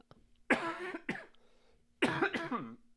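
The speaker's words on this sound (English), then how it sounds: "I hope you edit these coughs out" Two bursts of coughing, each a pair of harsh, close coughs with a brief pause between, over a faint steady hum.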